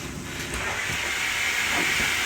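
A steam iron releases a continuous breathy hiss as it presses a shirt, the steady jet filling the short moment with no speech.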